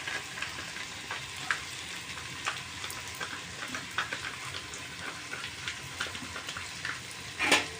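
Sliced onions sauté in a pan for chicken biryani with a soft, continuous frying crackle. Scattered light clicks and scrapes of stirring are heard throughout, fairly quiet and with no talk.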